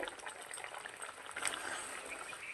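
Fish curry broth with potato and eggplant bubbles in a pot, a soft continuous simmer of small bursts and gurgles, fairly faint and close.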